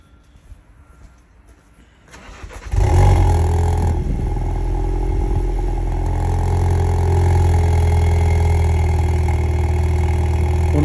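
A car engine cranks and fires up after a quiet start, then settles into a loud, steady, rumbling idle close by, with slight revs and no talking.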